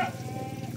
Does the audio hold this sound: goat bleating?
yes